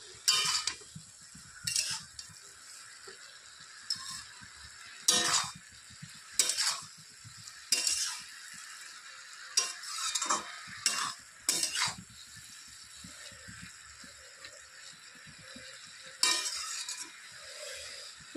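A spoon stirs cabbage curry in a pot in a series of short, distinct scraping bursts with pauses between them over a faint background hiss, with no talking.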